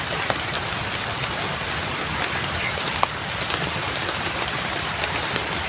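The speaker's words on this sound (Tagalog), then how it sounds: "Antayin mo natin na humupa yung ulan." Heavy downpour drums continuously on nearby surfaces, a thick, even hiss of rain with occasional sharper drips and no voices.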